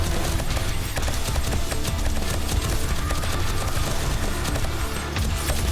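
Dense, continuous automatic gunfire from AP 9mm rounds fired at a horde of zombies during a blood-moon style defense in the survival game 7 Days To Die, loud and unbroken with sharp rapid cracks over a heavy low rumble.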